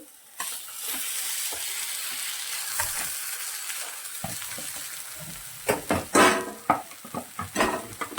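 Mashed potato filling for cheese vada pav is stirred and turned in a frying pan, with a steady soft sizzle underneath and sharper scraping, clattering strokes of the spoon growing louder and more frequent toward the end.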